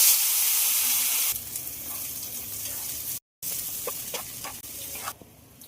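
Chicken and masala paste sizzle in a hot pan with a loud hiss that softens, followed by stirring scrapes and light clinks close by.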